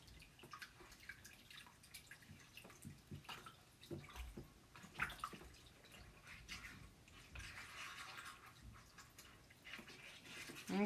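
Water runs and splashes while a chalk paste stencil is rinsed off, probably at a sink or tub, with soft irregular drips and a steadier gush toward the end. The sound is faint and close, with no speech.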